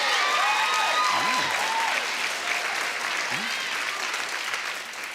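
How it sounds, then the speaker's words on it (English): A studio audience on a TV talk show claps steadily for several seconds, a dense continuous wash of applause that slowly fades slightly, with faint voices mixed in beneath it. "Clap if you do."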